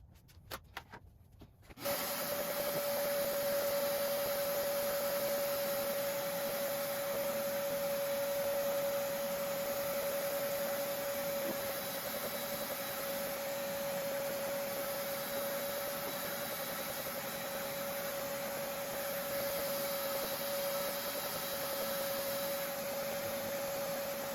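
An X-Carve CNC machine is vacuumed clean of dust. A loud, steady vacuum drone with a constant whine starts after a brief rustle and runs on without a break.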